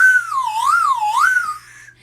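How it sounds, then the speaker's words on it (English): A whistle played with a single sliding, wavering tone that swoops down and up through several wobbly bends, fairly loud and close, fading slightly at the end with no talking. "you try to play the whistle"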